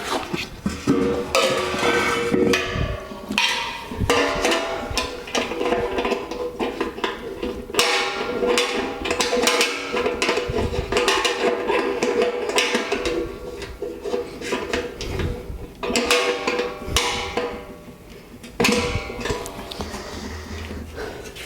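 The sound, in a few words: nut being tightened on a beer keg distilling boiler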